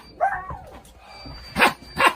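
A man imitates a dog with his voice, giving a few short barks and yips with gaps between them, close and fairly loud, with no other talk.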